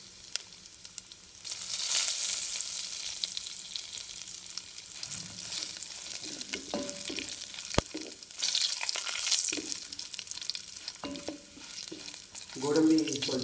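Cashews, curry leaves, cumin and asafoetida sautéing in a pan for Pongal give a steady broadband sizzle from about two seconds on, with a few clinks and scrapes of stirring and a brief voice near the end.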